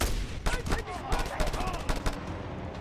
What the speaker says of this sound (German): Vielleicht probieren wir mal unser neues Maschinengewehr aus.